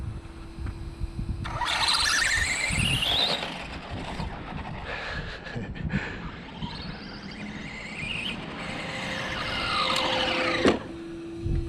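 A Traxxas Slash Street Eliminator RC car on old, worn tires makes a run, its electric motor whining up and down in pitch as it speeds past and turns, fairly close, with a steady outdoor background.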